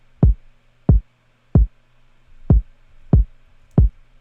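A kick drum sample, dry and unprocessed, thumps six times at an even pace, each hit short, punchy and deep over a low steady hum.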